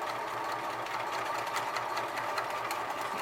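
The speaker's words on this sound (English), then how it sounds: "Keep sewing." A sewing machine hums in a steady, even whir as it stitches over the elastic and pleats of a cloth mask, close and continuous with no talking.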